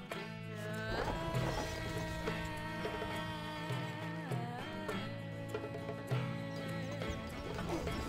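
A horse from the video game Stronghold: Crusader neighs and whinnies with clip-clopping hooves, set against a continuous musical score that runs underneath throughout.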